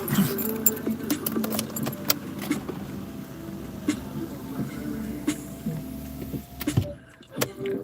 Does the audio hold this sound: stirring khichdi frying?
no